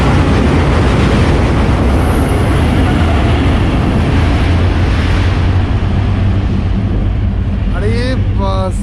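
A train runs across the Bogibeel rail-road bridge in Assam, a loud, close, unbroken rumble and roar filling the whole stretch, with brief voiced sounds near the end.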